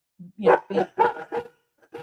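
Dogs bark in a quick run of five or six loud, close woofs, then a softer trailing bark, heard alone in a home during a live broadcast.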